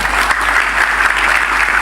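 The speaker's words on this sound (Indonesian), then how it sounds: "Tepuk tangan untuk panitia." An audience at a Ramadan gathering led by Gus Miftah applauds the organizing committee, a loud, continuous wash of clapping from many hands, with a low hum running underneath.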